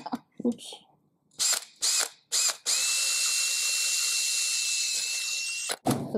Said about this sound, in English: So tell them why you're using the really long drill bit.